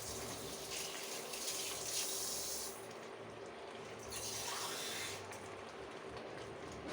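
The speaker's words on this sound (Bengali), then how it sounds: "ডালটা একটু জল দিয়ে দেবো," Water being poured into a pot of lentil dal cooking on the stove, a steady running, splashing wash that swells and eases over several seconds, close and moderately loud, with no voices.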